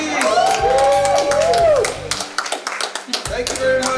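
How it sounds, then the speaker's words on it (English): Group clapping and a few whoops at the close of an online Hyperbike metaSPORT Grand Prix event, coming in short bursts as a host speaks over it. "Big applause, please!"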